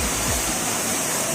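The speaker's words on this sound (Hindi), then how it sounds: "तो ये वाटरफॉल का नाम है उमतीर सिंह वाटरफॉल।" The Umtirsing waterfall in West Karbi Anglong, a tall falls swollen with rain-reddened water, gives a steady, broad rushing roar, close and constant for the whole short moment.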